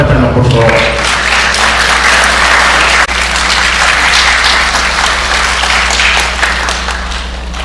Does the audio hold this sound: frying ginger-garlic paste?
no